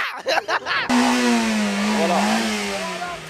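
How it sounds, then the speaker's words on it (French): A loud engine revs up suddenly and holds a rising, droning roar, with brief rumbling bursts beforehand. "ils chauffent un petit peu les moteurs"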